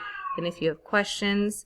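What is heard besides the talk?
pet cat meowing in the background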